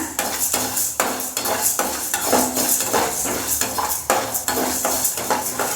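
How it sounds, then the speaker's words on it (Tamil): Urad dal and chana dal dry-roasted in a kadai while a metal spoon stirs them, giving repeated rattling scrapes and clinks at a brisk, uneven rhythm, loud and close with no talking. "அதோட கடலைப்பருப்பு, பொன்னிறம் ஆகிற வரைக்கும் நல்லா வறுத்துக்கோங்க"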